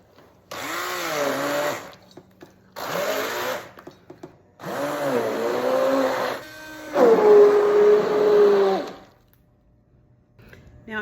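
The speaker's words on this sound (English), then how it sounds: "So I'm gonna use my immersion blender and just get this down to a consistency where it's more" An immersion blender purees tomato pizza sauce in several bursts, a loud whirring motor that starts and stops with brief gaps, its pitch bending as the blade works through the sauce, close up.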